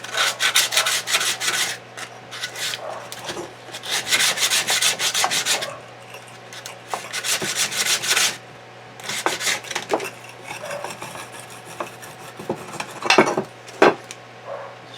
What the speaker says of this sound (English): Oh, sandpaper.